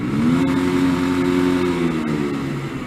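A Vauxhall Mokka drives past and accelerates, its engine a mid-pitched rising hum that swells and then eases, fairly close and steady.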